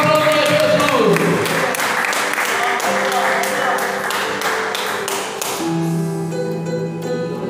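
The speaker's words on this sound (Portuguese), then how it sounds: "Vamos aplaudir Jesus" A congregation at a Brazilian healing and deliverance church service applauds, crisp clapping mixed with sustained instrumental tones and voices that fades and thins toward the end.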